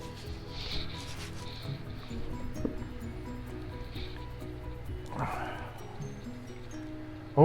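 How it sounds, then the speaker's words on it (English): A spatula scrapes and spreads a mixture onto a surface, producing a steady close rubbing and scraping sound over a constant low hum and faint background chatter. "I'm going to use a spatula to put it on"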